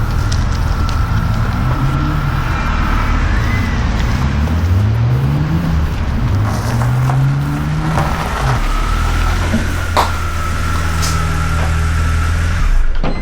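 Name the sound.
BMW convertible engine running while parked on a hill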